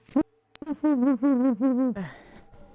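A human voice imitates an owl, giving a few wavering, drawn-out hoots in quick succession, close and loud, followed by a brief breathy noise.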